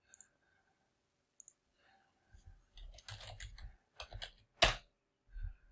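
A few scattered key clicks give way to short bursts of typing on a computer keyboard, close and crisp with brief pauses and one sharper final tap.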